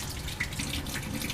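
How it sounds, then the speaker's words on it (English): Tap water runs over laboratory glassware being rinsed in a sink after an ester extraction, a steady close splashing stream with small drips and clinks, with no talking. "So we'll just kind of rinse it."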